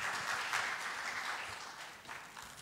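Audience applause welcoming a speaker at a rural communities parliament, a soft continuous wash of clapping that slowly fades toward the end.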